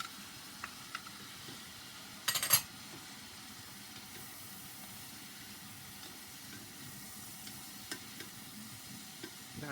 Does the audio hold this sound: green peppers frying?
yes